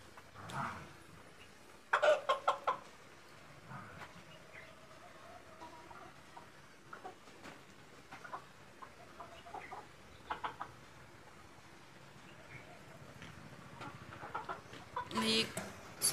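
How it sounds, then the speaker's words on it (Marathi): Chickens cluck around a water spot at a dairy buffalo shed on a hot day, scattered calls rising and falling over steady background noise, with a louder burst of clucking near the start and another near the end. "पाण्याभोवती किती कोंबड्या आहेत बघा।"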